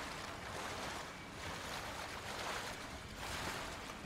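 Water rushes and wind blows in the Ghost of Tsushima video game while a character moves through water. The wash is soft and steady, swelling slightly in places, with no voices.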